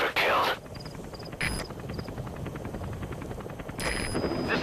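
A helicopter in Metal Gear Solid V drones with a steady rotor chop, moderately loud, while voices talk over it and brief bursts of radio-like noise cut in at the start and end.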